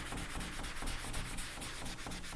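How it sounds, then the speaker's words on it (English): A kitchen sponge rubs back and forth across watercolour paper, giving a soft, rhythmic scrubbing sound with steady strokes, close and fairly quiet with no talk. "then you can give it a bit of a rub"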